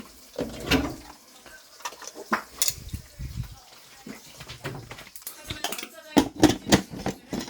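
A metal lid clanks down over a pan of pork belly grilling for dinner, with a few sharp knocks and scrapes of cookware scattered through the stretch and brief background voices.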